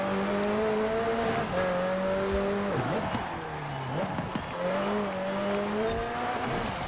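McLaren 720S Spider racing in Forza Horizon 4, a continuous engine drone that rises and drops through gear shifts with brief tire squeals, fairly quiet and steady throughout.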